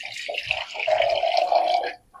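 Water poured into a pot of rice for vegetable pulao, a steady trickling splash lasting under two seconds before cutting off, close and fairly loud.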